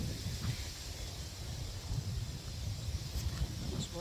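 Outdoor wind buffeting a microphone, a steady low rumble with gusty swells throughout and no other clear sounds.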